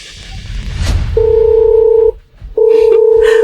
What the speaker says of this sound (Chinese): 我现在就给财务打电话